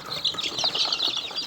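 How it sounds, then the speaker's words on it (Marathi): Kadaknath chickens and chicks in a village poultry pen give a steady, close chatter of high-pitched peeping and light wing flutters, with no talking. "कडकनाथची आपल्याकडे कोंबडी आहे आणि कडकनाथची पिल्लं पण आहेत"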